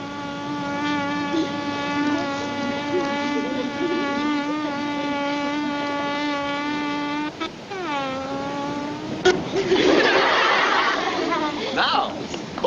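A voice imitates a buzzing bee, a sustained nasal drone held for several seconds that bends and wavers before breaking off, followed by a burst of noisy laughter or chatter, in a 1938 Columbia drama film.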